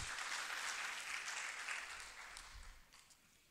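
Audience applause at a leadership conference, a short burst of clapping that fades away over a few seconds, fairly faint.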